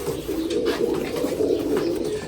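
A roller pigeon coos in a soft, continuous low burble, close and steady throughout, with faint background noise.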